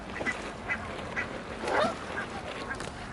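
Ducks and geese at a bird park call repeatedly, a series of quacks and honks at moderate distance with one louder cluster in the middle, over outdoor background noise.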